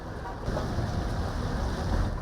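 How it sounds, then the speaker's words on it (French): Fine morning rain falls outside a church of the Uganda Martyrs on an August feast day, a soft, steady hiss of drizzle with nothing else rising above it. "La fine pluie matinale n'a pas empêché aux fidèles catholiques de converger vers l'église des martyrs de l'Ouganda."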